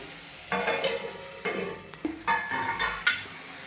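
A spoon stirs a tomato and vegetable curry in a pan in several separate passes, each a soft scraping swish with a light sizzle underneath, followed by brief pauses and a sharper clink near the end.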